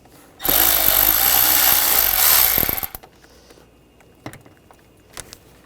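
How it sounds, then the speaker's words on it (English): Hand-turned 6mm socket work loosening two hose clamps on the 2.4L intake of a 2002–2006 Honda CR-V, heard as a loud, steady burst of close mechanical whirring for about two seconds that cuts off into a few faint scattered clicks and taps. "Using a 6mm socket, we're going to loosen up these two hose clamps."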